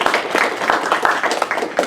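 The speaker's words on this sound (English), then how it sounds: "Let's give a round of applause, please." Audience applause at a furry convention game-show stage event, a dense steady wash of many hands clapping throughout, fairly loud and close.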